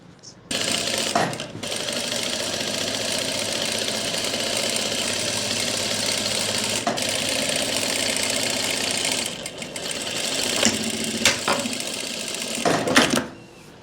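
A sewing machine stitches a plazo pant in long, steady whirring runs, stopping briefly near the start and again partway through before a final burst.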